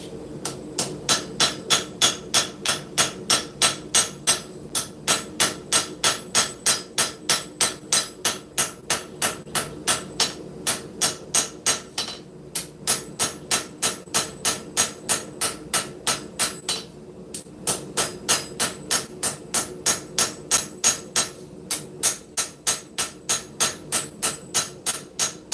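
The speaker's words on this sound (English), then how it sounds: "We're going to go ahead and switch to my little auto body hammer" A small auto body hammer strikes scrap steel on an anvil while forging a knife, in a fast, steady run of loud, close, ringing blows with a few short pauses.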